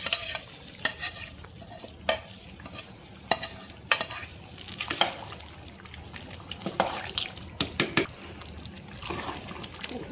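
Beef fries in a pan while being stirred, sharp repeated scraping clacks of the utensil over a low sizzle, close and irregular.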